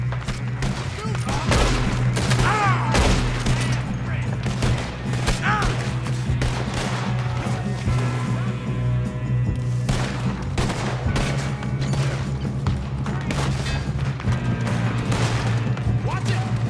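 Dense, rapid gunfire rattles through a shootout in Red Dead Redemption 2, with overlapping loud shots, bursts and booms close by and voices mixed into the fighting.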